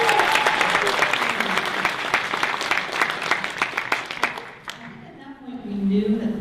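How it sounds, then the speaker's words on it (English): Studio audience applauding the show's writers, a dense burst of clapping that carries for about four seconds before thinning out as talk resumes. "Round of applause to the writers."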